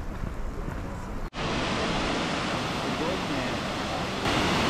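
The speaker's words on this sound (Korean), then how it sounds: "여기는 흰수염 폭포입니다." A waterfall roars steadily in cold outdoor weather, a dense broadband rush of falling water with wind, continuous and close, briefly cut near the start.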